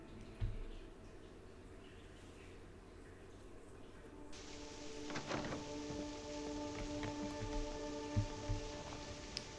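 Rain falls in the London setting of the video game Fallout: London, a faint steady patter with scattered drips and thunks, joined partway through by a soft hum.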